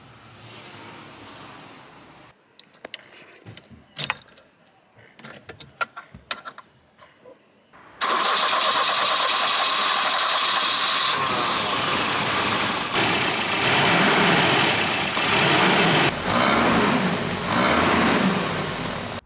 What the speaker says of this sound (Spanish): El motor Redblock.